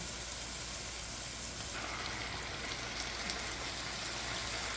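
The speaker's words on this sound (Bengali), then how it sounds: "আমি এই গ্রিন বিনসটা দিয়ে দুই তিন মিনিট মতো এটাকে সাঁতলে নিচ্ছি" Fresh green beans sautéing in a hot pan, a steady, close, continuous sizzle and crackle of frying with no voices over it.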